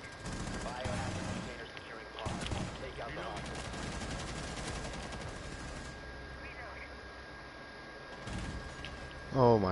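Rapid automatic gunfire in a shooter video game, sustained bursts of shots close and loud, with a player talking over the shooting and a brief louder burst at the end.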